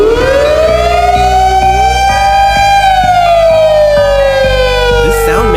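A loud WS3000 warning siren sweeps upward in pitch, holds, then slowly falls, a piercing continuous wail over a deep droning hum and regular low thumping pulses.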